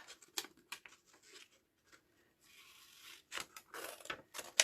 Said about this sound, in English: I'm just going to cut those words out.